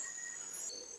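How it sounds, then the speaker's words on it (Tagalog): Crickets trill high up a mountain in the countryside, a thin steady chirring close by with a brief louder burst partway through; no voices. "Wala tayong ibang maririnig kundi mga kuliglig,"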